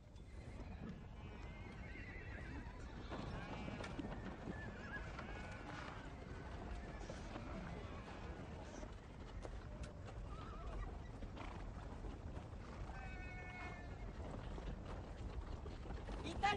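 Horses neigh and whinny amid steady hoof clip-clop on a quiet, low-level track, with faint background movement throughout and a few sharp whinnies standing out.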